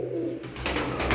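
A domestic pigeon coos briefly and nearby, a soft low call over a steady background hum.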